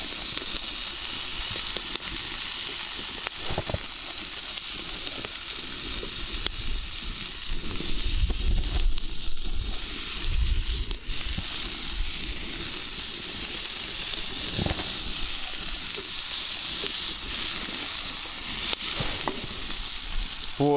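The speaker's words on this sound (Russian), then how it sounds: "Переворачиваем бекон." Bacon sizzles and crackles as it fries in a pan, a dense, steady hiss with scattered sharp pops and occasional scraping or stirring clatter, close and continuous throughout.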